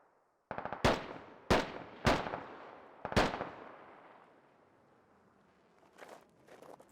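Gunfire in the video game Squad: four sharp, loud reports spaced about a second apart, each trailing off into a long echoing decay, followed by a pair of fainter distant shots.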